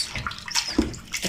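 Arrowroot (nduma) being washed by hand in a basin of water, a brief burst of close sloshing and splashing.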